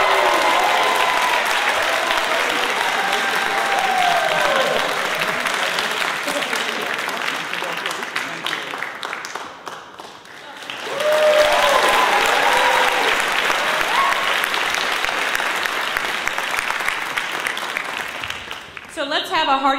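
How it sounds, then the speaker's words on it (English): Sustained clapping from a large audience at a medical school white coat ceremony for student doctors, loud and dense for most of the stretch, dipping briefly midway before swelling again, with voices mixed in. "another big round of applause for all of our student doctors."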